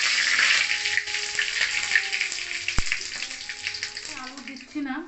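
Whole spices such as cumin, bay leaf, dried red chilli, cardamom, cinnamon and cloves fry in hot oil, giving a steady close sizzle with crackling bursts, a sharp clink partway through and a soft stirring swell near the end.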